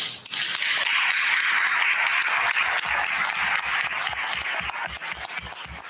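Audience applause for DEI committee members standing at a diversity, equity and inclusion speaker series evening, dense and steady for about six seconds, with a faint rhythmic low thumping under the clapping.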